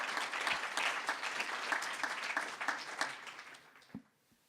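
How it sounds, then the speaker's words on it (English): An event audience at a cohort launch gives sustained applause, steady and fairly close, then the clapping thins out and fades to near silence at the end. "So give a round of applause for our Cohort 5 affiliates."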